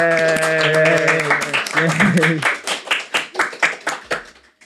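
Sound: audience clapping at a live recording

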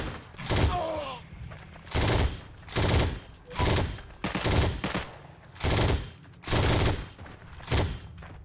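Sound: burst gunfire in the video game Heroes & Generals

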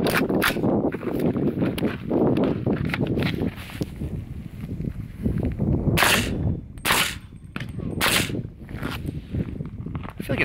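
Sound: suppressed .45 pistol shots fired at soft body armor vest

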